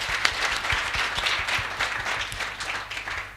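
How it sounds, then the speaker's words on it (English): An audience at a conference on entrepreneurship and rural development gives a round of applause, a dense, even clatter of many hands with some distinct individual claps standing out nearby. "let's give him a round of applause"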